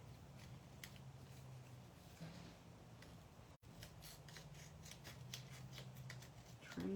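Metal snips cut repeatedly through paper scraps for a stamped card, a close, quiet series of crisp snips with a brief pause partway through, over faint room hum.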